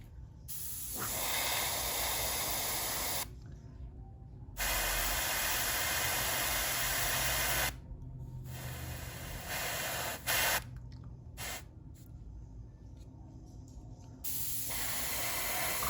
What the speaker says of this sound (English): I go and spray it